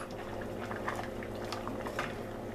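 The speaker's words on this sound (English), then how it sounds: "we're gonna let it cook for another hour, maybe an hour and a half" Garbanzo bean soup simmering in a pot, a steady low bubbling with soft pops and small liquid blips throughout, close and continuous.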